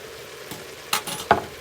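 Garlic, about a teaspoon, hits a hot pan for vegan potato leek soup, giving a low steady sizzle with a few brighter crackling bursts near the end, close and fairly quiet.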